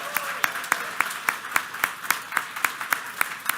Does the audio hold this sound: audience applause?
yes